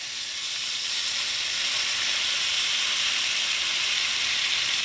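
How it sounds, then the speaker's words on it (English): Lemon juice hits browned butter and garlic in a hot pan, giving a loud, steady sizzle that holds close and continuous throughout with no voices. "I got myself a lemon and we're gonna squeeze that lemon juice in"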